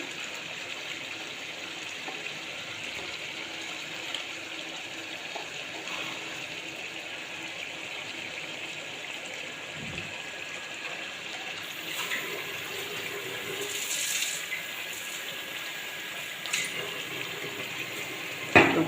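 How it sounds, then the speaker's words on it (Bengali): Hot water runs into chicken curry in a cooking pot as a soft, steady pouring stream, faint and continuous with a few small clinks, and no voices. "এইটাতে একটু গরম জল বসিয়ে দেব।"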